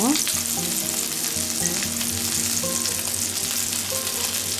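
Pollack fillet pancakes hiss and sizzle steadily in a generous layer of hot cooking oil, a continuous close frying crackle with faint tonal sounds underneath.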